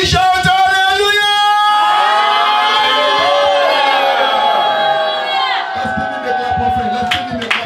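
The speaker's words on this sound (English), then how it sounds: "I want you to shout that hallelujah." Church congregation shouting hallelujah together: a loud swelling crowd roar of many voices rising and sustaining for several seconds, with a lone voice heard before and after.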